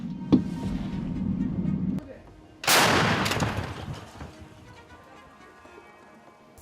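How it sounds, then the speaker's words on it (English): Artillery fire in combat around Toretsk, Ukraine: a loud, sharp blast bursts out, then a broad roar slowly decays, preceded by a lower rumble and a brief crack. "A relentless barrage of artillery fire destroyed the enemy's defenses with overwhelming explosive force"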